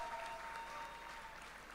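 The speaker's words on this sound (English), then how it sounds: "Can we give her a round of applause to Aramide?" A faint audience applauds at an accounting technology summit award ceremony, a brief, distant patter of clapping over a steady tonal hum.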